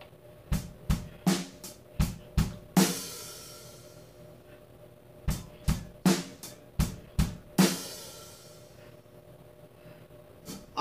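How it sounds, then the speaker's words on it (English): A drum kit groove from a song cover: punchy kick and snare hits in a repeating pattern, with a crashing sizzle cymbal landing on beat four alongside the snare, loud and close. "we move that sizzle 1/8 note earlier, so it's on beat four with the snare drum"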